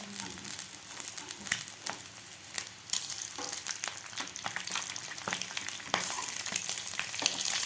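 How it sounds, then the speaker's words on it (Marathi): Eggs sizzle steadily in a hot pan for anda chaat, a dense continuous frying crackle with occasional scrapes as they are turned, close and fairly loud with no talk. "खालची बाजू थोडीशी फ्राय झाल्यानंतरच दोन ते तीन मिनिटात आपली खालची बाजू व्यवस्थित फ्राय झालेली आहे"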